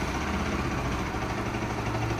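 A Bajaj Pulsar RS200 motorcycle with a meter drop and missing problem idles after an electric start, a steady, moderately loud low engine rumble with faint vibration and no speech.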